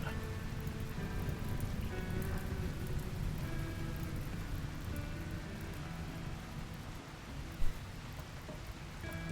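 Steady rain falls on a surface in a RimWorld scene, a continuous wash of drops with low rumbling that suggests thunder, plus one brief louder knock near the end; no voices.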